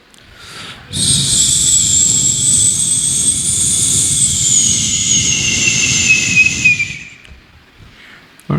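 A voice imitates an airplane coming in to land, holding a loud, steady jet-like whine with a high whistling tone for about six seconds before it fades out.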